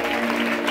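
A brief burst of steady audience applause fills a church Easter mission service, dense and continuous clapping from a crowd with no gaps.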